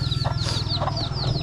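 Chickens clucking and calling while they feed outdoors early in the morning, several short bird calls over a steady low hum, fairly close.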